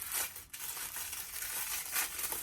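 Mint-colored paper packing crinkles while jewelry is unboxed, a few close, soft rustling bursts that swell and fade, with no talking.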